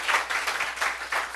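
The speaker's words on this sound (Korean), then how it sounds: "하나님 박수 올려드려요" Congregation applauding during a Sunday church service in Seoul, with a busy wash of many hands clapping in uneven pulses, fairly close and filling the room.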